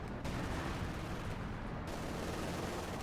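Heavy .50 caliber machine guns in a Company of Heroes 2 battle fire in dense, continuous rattling volleys, loud and close throughout without pause.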